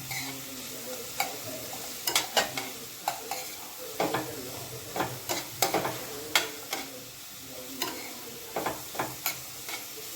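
Onion and potato are stirred in a pan for poha, the spoon scraping in repeated sharp strokes over a soft, steady sizzle of frying.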